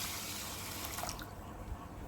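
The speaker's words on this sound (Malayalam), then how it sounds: "1 കപ്പ് വെള്ളം ഒഴിച്ച് കൊടുക്കാം." One cup of water is poured onto 150 grams of green gram in a cooking vessel, a soft, faint splash that peaks briefly near the middle and then settles into a quiet trickle.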